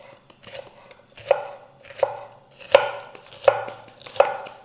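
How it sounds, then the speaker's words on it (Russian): A knife cuts green tomatoes into thin strips on a board, giving five or six evenly spaced, crisp chops close up with light rustling between them and no talk. "Каждую часть мы режем пополам и вот такими вот соломками тонкими"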